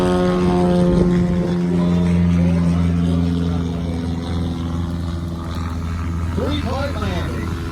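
A Carbon Cub propeller airplane comes in on short final and lands at an airfield during the ACCA fly-in, its steady engine drone continuous throughout, with a pitch change near the end and voices talking over it.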